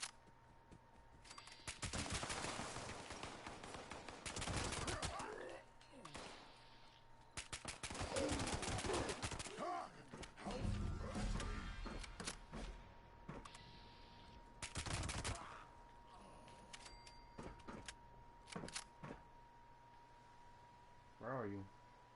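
Repeated bursts of automatic gunfire in the online game Fallout 76, loud volleys and scattered single shots spread across the stretch, with someone talking over parts of it.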